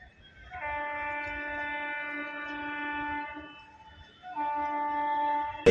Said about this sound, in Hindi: ये अपने वंदे भारत एक्सप्रेस ट्रेन